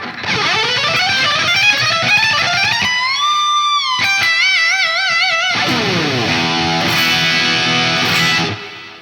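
A distorted electric guitar plays a fast, continuous E Dorian blues lick with bends, vibrato and slides, loud and close with no voices over it, ending in a sustained, wavering note.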